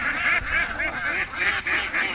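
A crowd of farm ducks near a pond quacks in a loud, overlapping chorus that rises and falls in pulses throughout, with no voices over it.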